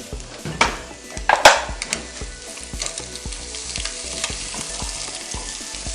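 Egg samosa filling being stirred in a frying pan, with a steady sizzle of frying under repeated scrapes and clacks of a spoon against the pan, close and fairly loud, and no talking.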